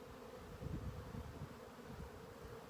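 Honey bees buzz steadily around an open hive frame during an inspection, a dense, continuous drone close by with no talking.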